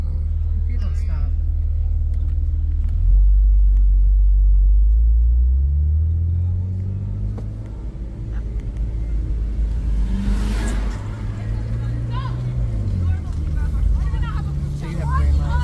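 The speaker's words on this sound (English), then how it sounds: "Oh my God, I hope this car stops behind me." A car engine rumbles loudly close by on a city street with traffic lights, its low drone rising and shifting as it moves, while a person talks over it.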